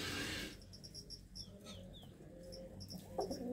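Pigeons in a loft, with soft cooing and a few short bird calls, faint and a little distant over a low background, after a brief louder burst at the start.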